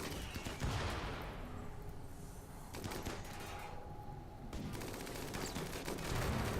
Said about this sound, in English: Sammy, pop a shot on this guy, mate.